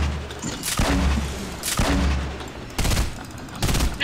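Gunfire in a video game, several sharp separate bursts spaced across a few seconds, loud and close, with low rumbling between shots and no talk over it.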